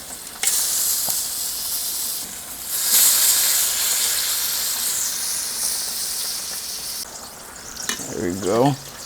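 Meat searing on a Kamado Joe grill, a loud, continuous hiss and sizzle with occasional surges and the clatter of tongs or a spatula, with someone speaking briefly at the end.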